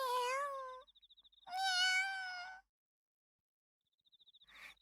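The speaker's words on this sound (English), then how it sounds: "Oh, I would have guessed it would have been the cat." A cat in the Riddle Joker game gives two long, clear, high meows, close and loud, with faint rapid chirping trills between and after them and no rustling evident.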